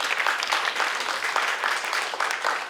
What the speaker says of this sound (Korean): 박수로 받으세요.